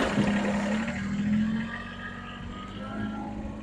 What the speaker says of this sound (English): start it up and give it some revs